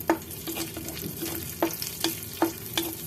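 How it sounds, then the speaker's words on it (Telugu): Dry fruits frying in ghee for carrot halwa, a soft steady sizzle punctuated by sharp scraping stirs of a spoon against the pan every half second or so, close up with no voices. "ఇందులో కొంచెం నెయ్యి వేసుకుని డ్రై ఫ్రూట్స్ ఉన్నాయి కదండి, ఆ డ్రై ఫ్రూట్స్ వేయించేసుకోవాలండి"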